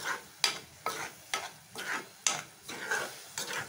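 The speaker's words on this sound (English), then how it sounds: "As you can see, it is nicely frying." Ground masala sizzles in a pan while a spoon stirs it in regular scraping strokes, about eight soft, evenly spaced sweeps over a low, faint frying hiss.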